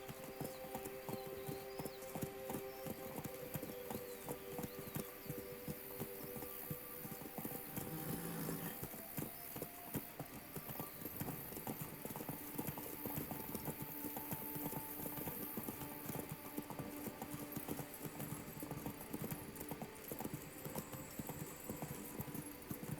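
Roach's hooves clip-clop in The Witcher 3: Blood and Wine, a soft continuous trotting patter under game ambience, quiet and steady throughout.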